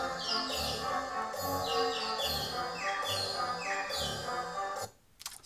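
Chirping, warbling bird-like calls repeat over a sustained droning tone, like an organ mimicking birdsong, cutting off abruptly near the end.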